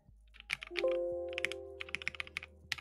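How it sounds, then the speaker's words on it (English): Keys clack on a keyboard with swappable switches, a quick irregular run of crisp close taps over a low steady hum, with a brief tonal chime partway through. "what is the sensation of pressing keys?"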